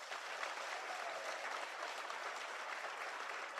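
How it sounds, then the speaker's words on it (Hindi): A rally crowd in Chhattisgarh gives thin, muted applause. The clapping stays steady and faint from a distance for several seconds, with no voices on top. "कमजोर रही ताली"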